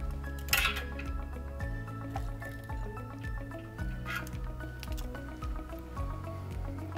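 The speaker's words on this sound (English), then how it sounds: "We will turn our water back on to the analyzer." Water turned back on into a CLX analyzer intake, heard as quiet trickling, dripping and squishing with small clicks and plastic knocks, fairly close and faint.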